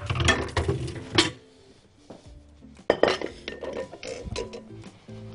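A metal strainer is fetched and handled in a kitchen, with clinks and clatters of metal against pots and utensils. A few sharp knocks stand out among softer scraping and rattling.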